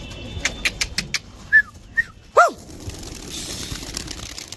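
Pigeons released into the air: a quick series of sharp wing claps at takeoff, followed by a few short bird calls and one louder sliding whistle-like cry, with quiet outdoor ambience afterward.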